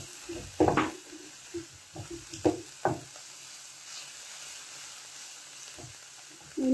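Onion, ginger and garlic frying in a pan as green chili goes in, a steady quiet sizzle broken by several scraping stirs and knocks of a spoon.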